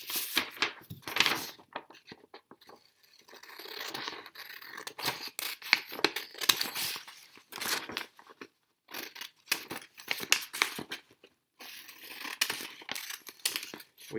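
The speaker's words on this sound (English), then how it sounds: "So you're cutting out your pictures" Scissors snip through paper while pictures are cut out of a worksheet page, giving repeated crisp cuts in irregular bursts with short pauses, close and moderately loud, with no voices.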